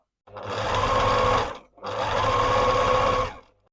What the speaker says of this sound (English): I have my zigzag stitch to the widest width. I have a pretty long stitch length, and now I'm going to pull on this elastic while I sew.